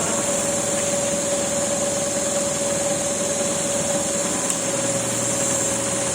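Alternator test rig in an electrical machines lab running steadily at 1200 RPM, giving a constant machine drone with a steady tonal whine, unchanging throughout with no talk.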